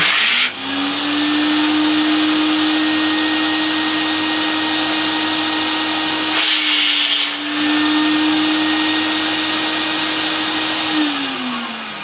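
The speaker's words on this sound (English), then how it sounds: "I've got it on the washing setting on the machine, on the lower suction," A Vax 2100 multifunction vacuum cleaner running in carpet-washing mode on lower suction, a loud steady motor drone with a constant whine, briefly dipping and changing tone midway before settling again, no talking.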